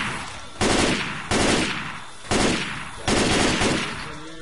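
Assault rifle fire in Left 4 Dead 2, heard as four loud, close bursts of shots at a steady pace, each fading briefly before the next.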